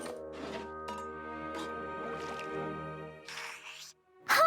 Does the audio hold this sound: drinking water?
yes